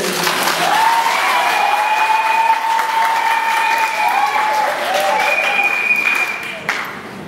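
An audience applauds during a political talk about the PALU party and Lumumba, a full wash of clapping under a sustained tonal hum or voice-like drone, fading toward the end.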